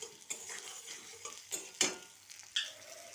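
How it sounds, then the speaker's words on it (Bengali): Koi fish frying in oil with spices, heard as a soft continuous sizzle broken by a few stirring scrapes and clinks of a utensil against the pan, close and fairly quiet, with no talking. "এই যে ভাজা হচ্ছে।"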